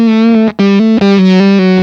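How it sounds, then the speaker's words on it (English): A Fender Road Worn '60s Jazzmaster electric guitar with single-coil pickups runs through a Tone Bender style fuzz. Three loud, saturated sustained notes play alone, with brief gaps between them. "this is like a tone bender style fuzz,"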